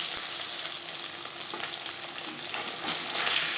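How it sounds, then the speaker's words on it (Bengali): Marinated pabda fish frying in hot refined oil, a steady dense sizzle that fills the whole stretch, close and loud, with no talking. "পাবদা মাছ হতে একটু সাবধানে ভাজতে হবে।"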